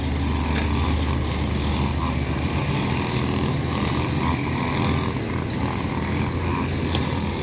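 A grass trimmer engine buzzes loudly and continuously at close range, a harsh high-revving drone with no pauses.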